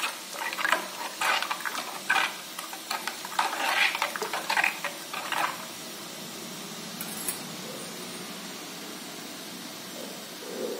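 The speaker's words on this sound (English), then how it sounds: "Stir it occasionally." A spoon scrapes and swirls around an earthen pot of ragi porridge in a few uneven strokes, then gives way to a faint steady simmer.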